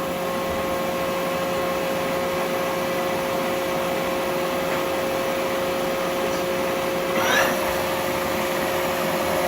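A Union BFT105 boring machine spindle runs with a steady mechanical drone and a high whine that rises in speed toward 700 RPM, with a short swelling whir near the end.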